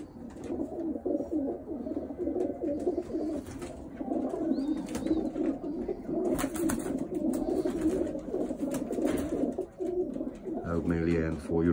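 Racing pigeons coo steadily inside a loft, a dense murmuring chorus of overlapping calls running throughout, with a voice talking faintly underneath.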